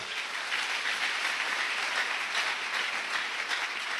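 A church congregation applauds with steady, dense clapping that fills the space evenly throughout, with no voices rising above it.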